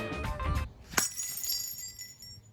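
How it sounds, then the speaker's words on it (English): A ceramic mug shatters in one sharp crash, with fragments ringing and skittering briefly afterward, preceded by a rumbling, buzzing stretch of other sound. "me shattering that mug"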